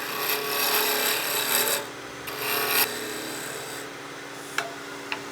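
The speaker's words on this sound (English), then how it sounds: "we're just going to take small bites with the spindle roughing gouge" Spindle roughing gouge taking small bites from a square wooden whistle blank on a spinning lathe: a steady close rasping scrape in bursts, pausing briefly, then a couple of short ticks near the end.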